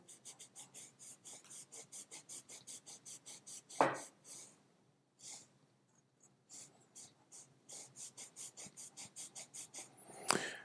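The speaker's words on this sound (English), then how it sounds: "we'll grab our rag and start rubbing in one spot here" A rag rubs back and forth over the rusty blade of a Dutch Mameluke sabre, producing quiet, rhythmic rasping strokes in steady bursts with a brief pause and a couple of louder scrapes, close and faint, no talk.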